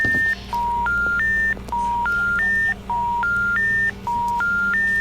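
A rapid sequence of electronic touch-tone dialing beeps from a telephone in the video game Kelnegıbor (Hello Neighbor), each short tone stepping in pitch in a repeating pattern, clear and close over a steady background hum.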